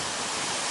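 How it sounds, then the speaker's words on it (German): A waterfall roars as a steady, dense, unbroken rush of water, loud and close, in the Norwegian countryside on the way to the Lofoten. "und daneben gleich einen Wasserfall."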